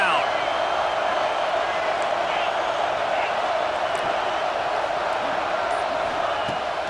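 A large stadium crowd roars in a steady, sustained wall of noise on third down at a Texas vs. Georgia American football game, with a commentator's voice speaking over it.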